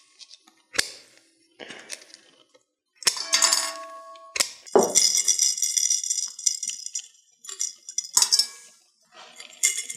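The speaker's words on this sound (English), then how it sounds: "Cut it in small bits and place it in a new container." Small cut bits of brass drop into a container in bursts, giving bright metallic clinks and rattles, close and fairly loud, with short pauses between handfuls.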